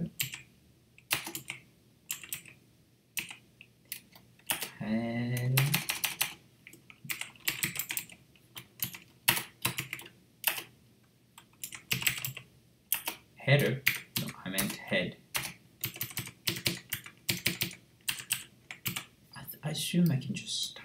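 Fast, irregular clatter of keys on a computer keyboard as HTML code is typed, close and continuous in bursts, with someone talking intermittently over the keystrokes.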